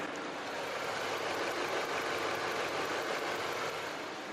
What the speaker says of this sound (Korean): 먼저 엔진 소음부터 체크해 보도록 하겠습니다